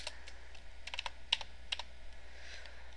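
Keys on a computer keyboard clatter in quick irregular bursts, close and crisp, over a faint steady hum, with no voices.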